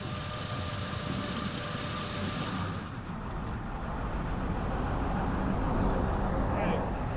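A Ford Ranger pickup truck's engine runs at a steady idle, with a loud, continuous rumbling close by.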